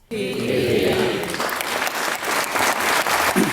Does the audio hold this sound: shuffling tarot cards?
no